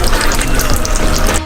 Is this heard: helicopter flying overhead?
no